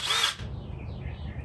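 Power drill briefly whirring at high speed as it drives a screw into a wooden truck bed platform, a short burst followed by low handling noise.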